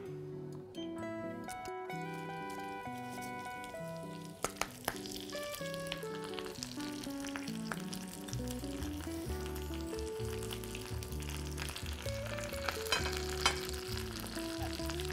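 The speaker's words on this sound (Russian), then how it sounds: "жарим на ней шпинат в течение 30 секунд" Spinach fries in butter in an unwashed pan still holding juices from cooked deer loin, a steady soft sizzle under prominent melodic background music throughout.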